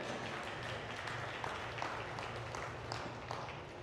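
Scattered clapping from an audience at a ranch riding clinic, a light, brief patter of hands sounding a little distant over a steady background hum.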